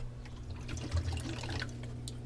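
Saltwater from an aquarium is pumped down a drain into a basement, giving a continuous rushing, trickling flow of water with a low steady hum beneath it and no voices.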